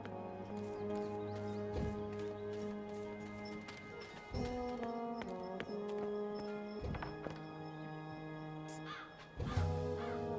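In the video game Dreamfall Chapters, a crow caws several times at moderate distance, with occasional hoof-like clopping over a steady musical background.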